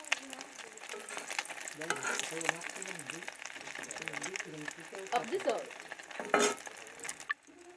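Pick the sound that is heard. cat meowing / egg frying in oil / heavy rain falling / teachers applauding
egg frying in oil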